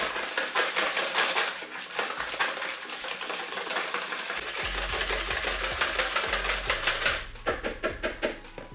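Salt being mixed into milk in a bowl: steady, rapid clinking and scraping of a utensil against the bowl, continuous and close throughout, with a low hum underneath.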